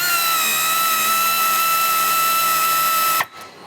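A power driver tightens a hose clamp on a Pro XP silicone charge tube, giving a steady, close, high-pitched whine for about three seconds before cutting off abruptly into quiet.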